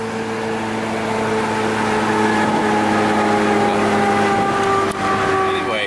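A Honda Civic EF with a swapped-in B16 engine running, a loud steady engine hum with a gentle rise in revs, heard close up with a voice talking over it.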